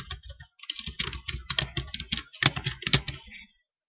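Rapid keystrokes on a computer keyboard as a new group name is entered in Gmail, a close, steady run of clicks for about three seconds before stopping.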